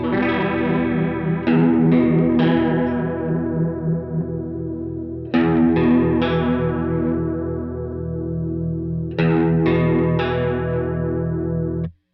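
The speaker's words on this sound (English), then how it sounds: "So that's a really nice feature if you've dialed in a chorus sound" Electric guitar through a Truetone V3 H2O liquid chorus pedal: repeated strummed chords and arpeggiated notes with a shimmering, wavering chorus tone, close and full, ringing out before stopping abruptly at the end, no voices.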